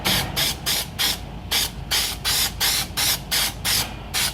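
Undercoating is sprayed onto a Ford Falcon Ranchero in about a dozen short, regular hissing bursts from an aerosol can, close and loud, with brief gaps between them.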